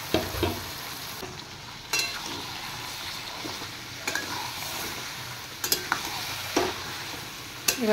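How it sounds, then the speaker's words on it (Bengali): Marinated chicken fries in hot oil in a wok, crackling and sizzling steadily while a utensil scrapes and knocks against the pan several times at irregular intervals. "কড়াইয়ে তেল গরম হয়ে গেছে। আমি এবার চিকেনগুলো দিয়ে দেব।"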